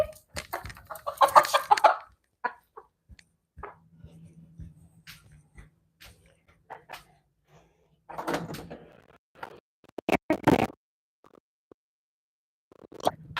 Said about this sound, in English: Now you don't have to hear squawking chickens in the background.